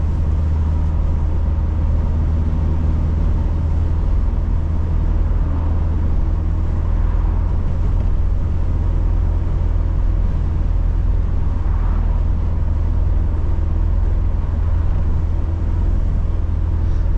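A 1986 Alfa Romeo Spider Veloce Quadrifoglio with a 5-speed manual, heard from inside while driving: a steady, loud engine and road drone with deep rumble, running without a break and with no talking.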